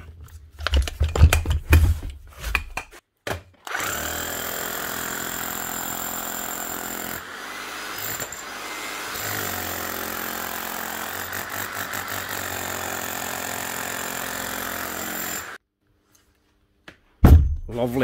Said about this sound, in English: Make sure she makes a hammering sound now.